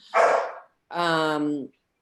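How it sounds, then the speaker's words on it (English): Dog barking twice, close and loud, a short rough bark followed by a longer, tonal, drawn-out bark with a pause between them. "That's my dog, I'm sorry."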